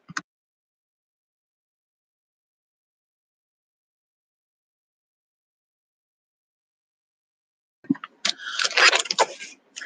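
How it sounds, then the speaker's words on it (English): After a long silence, a close crinkling and rustling of a plastic bag of white cheddar popcorn, brief and fairly loud. "It's in the plastic bag, so it's going to be loud."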